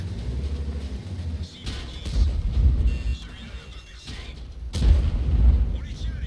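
Deep booming tank cannon shots from a video game thud twice in close succession, heavy and rumbling, with a voice talking over and between them.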